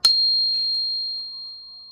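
A steady, high-pitched 4225 Hz pure tone rings on its own for two seconds after a brief click at the start, holding level and fading only slightly toward the end.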